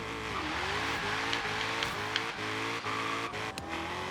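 Small car racing on dirt tires in Forza Horizon 3, with a steady loud engine drone whose pitch climbs and drops with repeated gear shifts across the run, plus faint tire noise.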